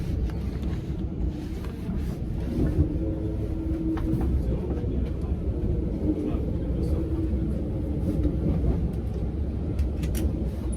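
Inside a train carriage in Germany while it runs, a continuous low rumble and rattle fills the space as people talk over it.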